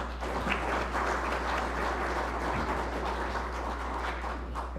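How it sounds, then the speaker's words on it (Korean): Audience applause at a Korean policy forum, a steady wash of many hands clapping that holds evenly throughout, with a constant low hum underneath and no voices. "박수 한번 보내주시죠"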